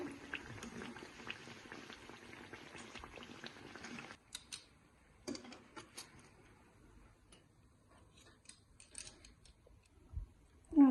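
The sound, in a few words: lentil fritters (bora) frying in oil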